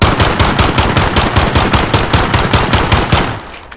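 An M19 pistol firing in the video game Call of Duty Modern Warfare, a rapid, loud, continuous string of sharp shots with no pauses, ending abruptly.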